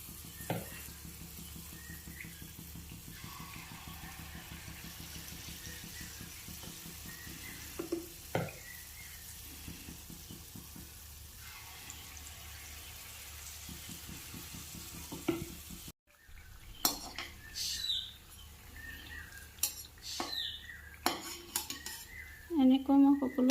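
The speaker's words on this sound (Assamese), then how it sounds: "এনেকৈ মই সকলো পিঠাবোৰ ভাজি ল'লোঁ।" Tal pitha, palm fruit cakes, fry in a pan with a low continuous sizzle, broken by sharp metallic scrapes and clinks of a utensil against the pan, growing louder and busier toward the end.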